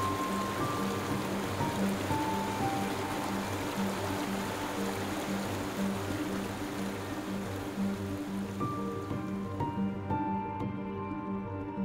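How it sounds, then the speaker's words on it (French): Steady rushing water of the Charlemagne waterfalls in the Vosges, France, a continuous broadband roar with no voices, tapering slightly near the end. "et les magnifiques cascades de Charlemagne."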